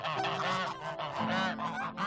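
Several farmyard geese honk together in a loud, continuous, overlapping chorus of nasal calls, close by and without any talking.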